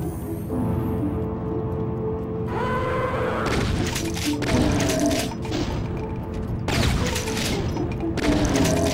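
Gunfire and gory combat from the first-person shooter Brutal Doom, with dense, loud bursts of shots and crunching mechanical clatter that keep coming in waves throughout.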